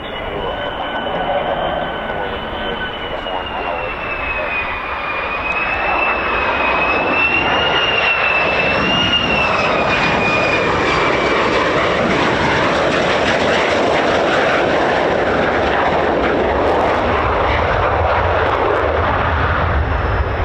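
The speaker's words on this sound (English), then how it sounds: "do on the F-15E Strike Eagle is shut down one of the engine and keep one of them still running" F-15E Strike Eagle fighter jet idling at an air base with one engine shut down and the other still running, a loud sustained roar with a wavering high whine that holds steady throughout.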